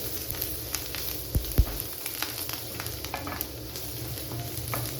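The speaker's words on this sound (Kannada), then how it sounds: "ಫ್ರೈ ಮಾಡಬೇಕು" Onion, garlic, cloves, cinnamon and turmeric frying in a pan for Mangalore chicken curry, giving a steady sizzling hiss with a couple of brief knocks of stirring partway through, close and continuous.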